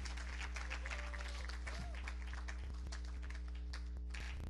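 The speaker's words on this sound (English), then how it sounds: "give them a hand clap as they go down" Congregation clapping in a church worship service: continuous mixed hand claps over a low, steady hum, with a brief vocal sound partway through, moderately faint and sustained.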